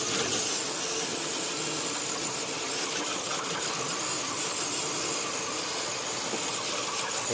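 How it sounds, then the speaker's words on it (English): A fire rig's engine runs steadily while driving along a pine-needle trail in snowy weather, a continuous broadband rumble and road noise that holds at an even level for several seconds with no voices. "I'm driving the fire rig."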